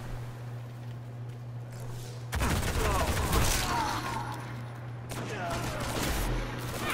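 Gunfire in the game Destiny, a quieter stretch giving way to a loud sustained burst of rapid shots with crackling impacts, followed by another volley near the end.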